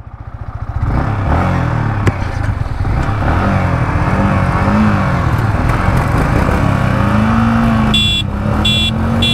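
A Yamaha MT15 V2 and a Royal Enfield Hunter 350 accelerate in a top-end race, their engines droning loud and close from about one second on, with a few brief beeps near the end.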